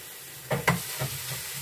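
Minced meat sizzles softly in a frying pan while a utensil breaks it apart, giving a few short scraping strokes over a low, steady fry.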